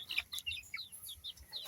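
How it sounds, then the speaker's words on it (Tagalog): Small chicks in a large coop, newly set on the ground, chirping rapidly in high thin peeps, several overlapping calls close by over a faint low rumble. "Yung mga maliliit na sisiw, ngayon lang sila nakaapak ng lupa."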